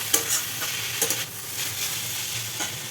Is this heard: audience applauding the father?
no